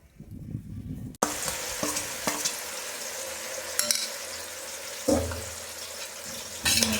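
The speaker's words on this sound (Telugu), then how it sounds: "ఇదే ఆయిల్లో ఇప్పుడు మ్యాగ్నెటేషన్ చికెన్ అయితే వేస్తాను" Marinated chicken for Hyderabadi dum biryani dropped into hot oil with fried onions, a sudden loud sizzle that then holds steady, with a few spoon scrapes and knocks against the pan.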